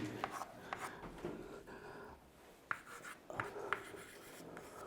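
Marker or chalk writing on a board during a chemistry lesson, a run of scratchy rubbing strokes with short pauses and a few sharper taps, close and fairly quiet, with no talk.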